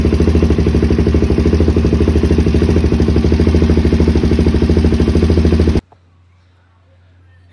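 Repaired motorcycle engine, recently treated for fuel starvation, running loud and close with a rapid rough firing pulse and revving, then cutting off abruptly near the end, leaving quiet.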